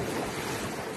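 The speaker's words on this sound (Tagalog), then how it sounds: "ang lakas ng wave" Strong sea waves surging at a pine-fringed beach in Croatia on a windy day, a continuous broadband wash of surf and wind rush with no voices, steady and close throughout.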